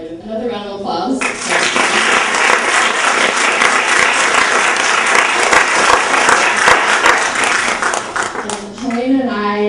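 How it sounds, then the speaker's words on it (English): A packed house at a film screening and panel breaks into loud, sustained applause for several seconds, dense clapping that rises after a short spoken lead-in and fades as a voice returns at the end. "Another round of applause."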